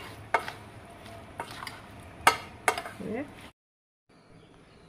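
A spoon scrapes and clacks against a bowl while ivy gourd pickle is mixed with spices and cooled oil, sharp knocks and scraping strokes at an irregular pace, close by, ending in a sudden cut to near silence.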